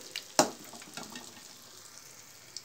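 Three eggs sizzle softly in a pan for egg fried rice, with a sharp clatter at the start and faint scraping and stirring under a quiet, steady fry.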